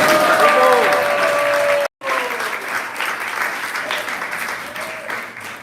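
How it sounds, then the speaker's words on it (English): A gathering at a Hare Krishna talk breaks into loud, sustained applause. It pauses abruptly for a moment, then resumes a little softer, with a voice briefly audible early on. "let's give a wonderful applause for Bhagavata and Hari Prabhu"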